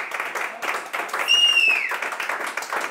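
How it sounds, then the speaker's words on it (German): Studio audience applauds a guest chef on a cooking talk show, a dense continuous wash of clapping with one brief high whistle rising above it midway. "Ein großartigen Applaus an diesen wunderbaren Künstler"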